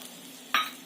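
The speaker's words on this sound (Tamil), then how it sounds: "இப்போ எண்ணெய் காஞ்சிடுச்சு. நான் இந்த பிரிஞ்சி இலையும் கடல் பாசியும் சேர்த்துடுறேன்." Bay leaf and stone flower dropped into hot oil for a Tamil white kurma give a sudden, close, sharp sizzle that flares up loudly, then eases off within a fraction of a second over a quiet kitchen hum.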